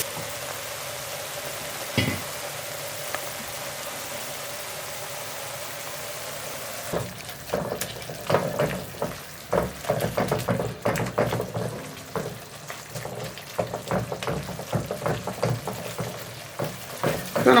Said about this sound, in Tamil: நம்ம போட்ட தக்காளி, பச்சை மிளகாய், பூண்டு எல்லாம் நல்லா குழஞ்சி வெந்து வந்திருக்கு.